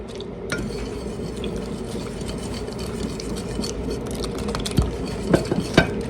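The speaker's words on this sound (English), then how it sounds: "we're going to whisk our wet ingredients into our dry ingredients" A whisk swishes and scrapes through a bowl, blending wet ingredients into dry ones for a from-scratch pantry recipe; continuous close stirring with a few sharper clinks against the bowl near the end, no voices.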